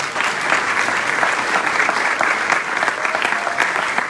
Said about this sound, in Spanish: Dense un fuerte aplauso a ustedes por estar acá